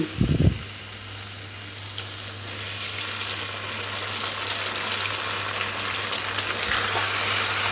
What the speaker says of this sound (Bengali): পেঁয়াজ লঙ্কা খুব ভালো করে ভাজা হয়ে গেলে এখানে দিয়ে দেবো ডিম